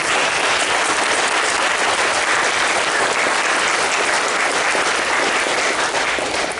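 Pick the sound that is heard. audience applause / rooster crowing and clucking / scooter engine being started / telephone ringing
audience applause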